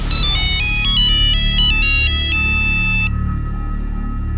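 A bright electronic phone ringtone plays a repeating melodic pattern over a low hum, then cuts off abruptly after about three seconds.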